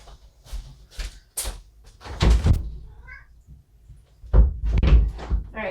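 Near the room, a door thunks shut in a couple of dull knocks amid a cat's meowing and quiet shuffling, with no one speaking.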